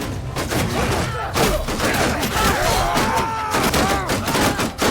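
A volley of arrows rains onto a shield wall in a Bannerlord battle, a dense, loud barrage of rapid thuds and cracks with shouting soldiers' voices rising over it throughout.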